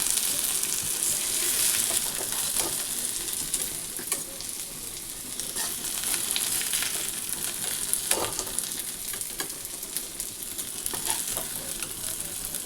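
Food crackles in hot oil in a kitchen pan: a continuous close sizzle, broken by occasional stirring scrapes and pops, with no talking over it.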